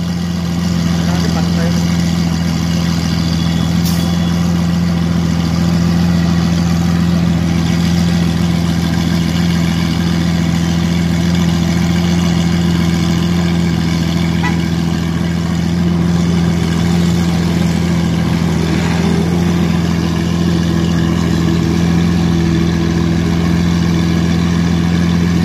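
A sports car engine idles steadily at a gas station, a low constant hum running throughout with a faint rise in revs, while people talk nearby.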